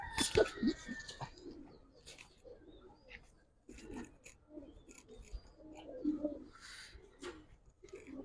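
Giribaz and khaki pigeons coo softly in low, repeated murmurs, close by, with a brief rustle and faint human sounds early on.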